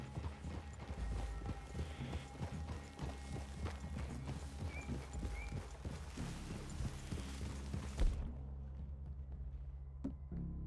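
Horses' hooves clip-clop at a steady walking pace in Red Dead Redemption 2, set against a continuous low game ambience before the sound thins out near the end.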